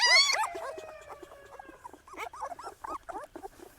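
Eighteen-day-old Rajapalayam puppies whimper and whine up close, opening with a high drawn-out cry and then a rapid string of short squeaky yelps.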